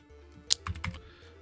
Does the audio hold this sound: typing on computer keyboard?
yes